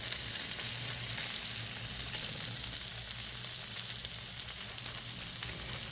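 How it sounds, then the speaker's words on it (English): Ground chuck patties sear in a hot pan with a loud, continuous crackling sizzle that stays even from start to finish, heard close with no voices over it. "I make sure the patty has a good, brown sear on the bottom of them."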